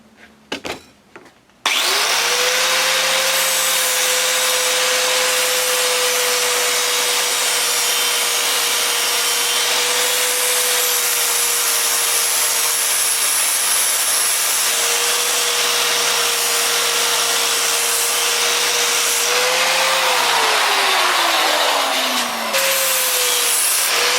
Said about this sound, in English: We'll get the grinder out